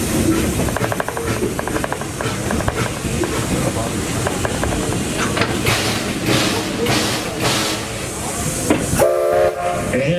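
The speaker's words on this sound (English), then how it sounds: "please stay seated till you hear that whistle blow" A Greenfield Village Railroad train whistle sounds near the end as a short, clear tonal blast, following several seconds of steady rolling train noise and faint crowd murmur.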